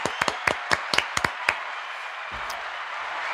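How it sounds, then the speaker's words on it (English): A few people on a podcast stream clap for Paul, a gifted member, with about nine sharp claps in quick bursts, loud and close, before a brief low murmur. "Let's get a round of Hey. applause for Paul."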